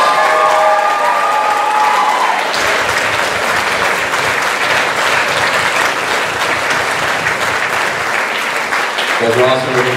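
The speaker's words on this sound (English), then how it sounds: "Ladies and gentlemen, your class of 2015 seniors, big round of applause." An audience at a band banquet bursts into loud, sustained applause with some cheering for the graduating seniors, and speech frames the start and end.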